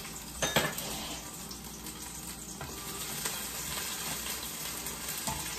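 Pork hock (pata) frying with garlic in a pan until golden brown: a steady, close, crackling sizzle with a few sharp pops and faint clinks, no voices.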